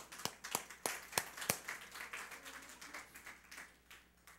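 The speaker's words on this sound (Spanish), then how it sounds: "Démosle un aplauso al Señor por eso." A church congregation gives a short round of applause during a service, sharp separate claps at first that blur into softer scattered clapping heard faintly from a distance.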